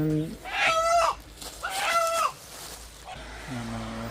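A chicken lets out loud, close crowing calls twice, then a shorter clucking call, with someone talking around the calls.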